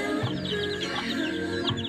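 Many chickens cluck and chatter continuously nearby in a backyard garden, overlapping calls forming a busy, steady flock noise with no pauses.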